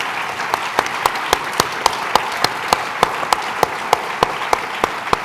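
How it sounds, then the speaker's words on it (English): An audience applauds steadily, with sharp claps punching through at an even, rhythmic pace over the continuous crowd clapping. "join me a big round of applause for them"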